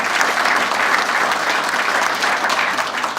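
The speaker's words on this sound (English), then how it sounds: "How about a round of applause for the" Sustained applause from a seated audience at a sports association Hall of Fame luncheon, steady and dense throughout without a break.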